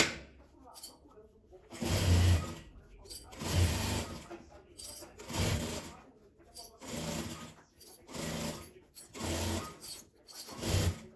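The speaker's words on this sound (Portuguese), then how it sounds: "eu vou passar a costura com um pezinho de máquina nela toda" Sewing machine stitching pleated fabric scraps, running in repeated bursts of a few seconds each with short pauses between, close and fairly loud, with a voice talking in the gaps.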